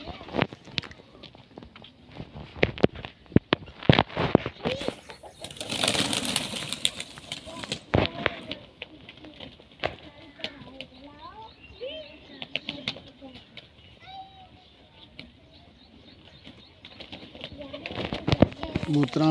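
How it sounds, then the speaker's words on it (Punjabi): Pigeons being fed grain outdoors, with bursts of flapping wings, footsteps and faint cooing among scattered bird sounds, and a person talking over much of it. "ਕਬੂਤਰਾਂ ਨੂੰ ਦਾਣਾ ਪਾਓ ਜੀ।"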